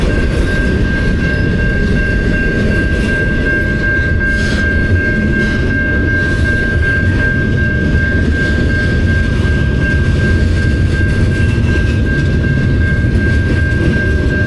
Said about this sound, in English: so you can get some really long trains here.